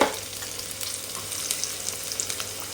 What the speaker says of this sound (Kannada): ಒಂದು ನಾಲ್ಕು ಬೆಳ್ಳುಳ್ಳಿ ಇಷ್ಟನ್ನು ಈಗ ಫ್ರೈ ಮಾಡಬೇಕು ಒಂದೊಂದೇ ಹಾಕಿ ಫ್ರೈ ಮಾಡಬೇಕು